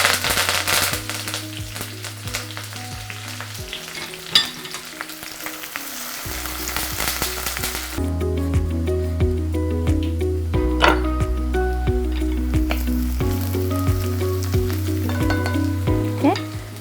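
Green chilies and curry leaves crackle and sizzle loudly in hot oil for a lima bean stir fry, with dense popping and spitting throughout and steady background music underneath.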